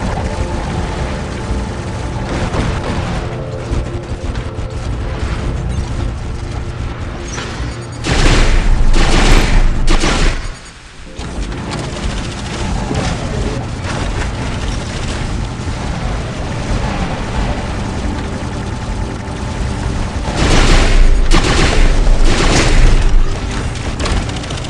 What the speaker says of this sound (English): You can see they're hurting me even as I'm dashing, so those weapons are pretty accurate. Avoiding these rockets.